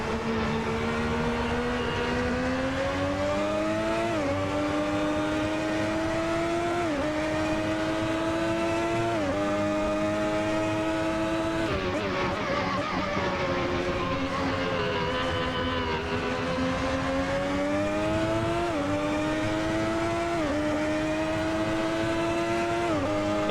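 A Ferrari 641 Formula One car in the Assetto Corsa racing game revs hard and winds up through its gears, a loud, continuous high-pitched engine wail rising repeatedly toward the top of the rev range with brief shift dips.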